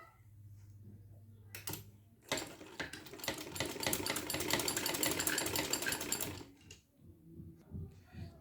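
Sewing machine stitching small fabric pieces together, a rapid mechanical clatter that starts after a short pause and runs steadily for about four seconds before stopping, close and fairly quiet.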